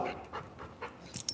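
Several dogs pant in quick rhythmic breaths, with a few short sharp barks near the end, close by and fairly quiet, no talking.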